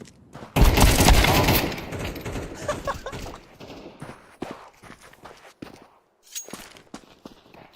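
Rapid automatic gunfire in Valorant: a loud, dense burst of shots in the first second or so, then scattered sharp shots, clicks and footsteps continuing intermittently.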